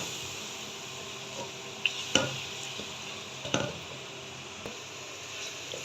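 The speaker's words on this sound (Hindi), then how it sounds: "अभी मैं इसको पानी के साथ थोड़ा सा भून के" Onion, garlic and spices frying with a little water in a pot for beef nehari, a soft steady sizzle with a few sharp clinks and scrapes of stirring, close by and without speech.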